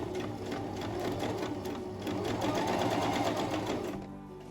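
A sewing machine stitches a seam on a chapan, an ethnic-style coat, running steadily at a fast, even pace close up and fairly quiet before stopping near the end.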